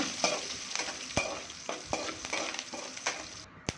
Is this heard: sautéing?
yes